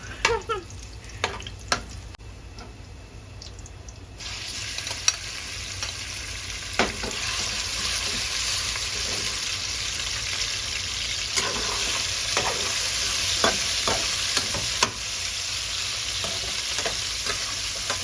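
Garlic stir-frying in hot oil in a home kitchen while cabbage and pork are cooked, a steady bright sizzle with sharp pops and splatters throughout, growing louder and denser after the first few seconds.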